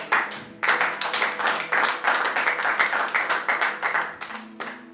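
A church congregation applauds together during a Sunday worship service, a steady, dense run of clapping with rhythmic swells that starts after a brief pause and continues strongly to the end.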